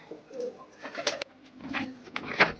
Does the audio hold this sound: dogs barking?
no